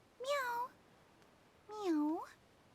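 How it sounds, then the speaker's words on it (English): Two clear cat meows from the video game Star Ocean The Divine Force, each a short rising-falling call separated by a brief pause, close and distinct against a quiet background. "Did I not just hear the sound of a cat meowing somewhere"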